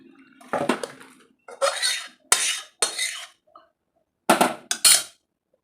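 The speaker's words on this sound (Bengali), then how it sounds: "এখন একটা গামলার মধ্যে নামিয়ে নিচ্ছি" Potato curry (aloo dum) being scooped from a cooking pot into a bowl: bursts of sharp metallic scraping and clanking, close and loud, separated by short silences.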